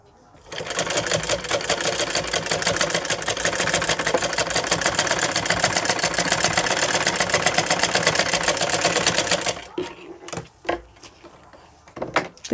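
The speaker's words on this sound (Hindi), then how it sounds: "यहाँ इसके ऊपर हम एक सिलाई लगाएंगे।" Sewing machine stitching a fabric strip onto a palazzo pant, a loud, steady rapid whir of needle strokes running for about nine seconds, then stopping with a few scattered clicks and handling sounds.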